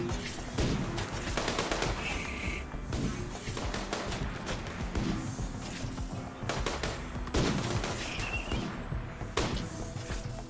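Sustained video game gunfire in a RimWorld fight, with repeated sharp shots and bursts sounding loud and fairly close, several heavier volleys standing out over a constant busy din.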